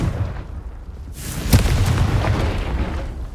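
Confringo spell explosion in the Hogwarts Legacy game: a deep booming blast bursts in about a second in, followed by a sharp crack and a rolling, rumbling tail that stays loud and close.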